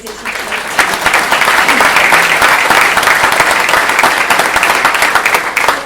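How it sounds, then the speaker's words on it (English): A big round of applause fills a hall at a people's assembly on the future of Ireland, loud and sustained, with crowd murmurs mixed into the clapping. "I want to give a big round of applause to everybody involved in tonight"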